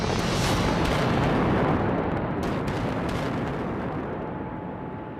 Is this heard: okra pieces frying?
no